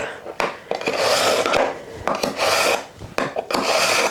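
A kitchen knife drawn repeatedly along a sharpener in quick, rhythmic rasping strokes, each separated by a short click, close up and loud with no talking.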